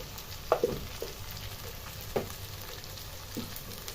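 Onions frying in a pan with ginger paste just added give a soft, steady sizzle underneath, with a few sharp clinks and scrapes of a spoon stirring at irregular intervals.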